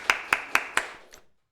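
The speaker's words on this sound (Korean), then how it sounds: "박수로 환영하도록 하겠습니다." Four sharp, evenly spaced claps from a church congregation welcoming visitors at an Easter Sunday morning service, followed by a fainter fifth clap before falling silent.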